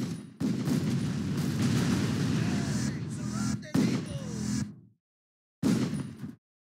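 Sustained gunfire in the action game Total Overdose, a dense, loud stream of shots broken by short pauses and then cutting out twice into silence, with a voice speaking faintly underneath.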